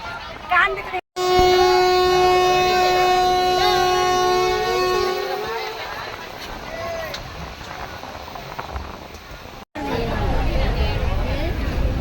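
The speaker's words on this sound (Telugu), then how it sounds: "పోతుంది ట్రైన్ తిరుపతి" A long, loud horn blares for several seconds, then a train rumbles past with people talking nearby.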